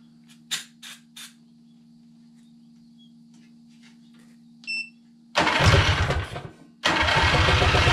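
A go-kart engine, its air filter off, is pulled over after a few clicks and a short chirp, then catches and runs loud and rough, drops briefly, and roars again close by.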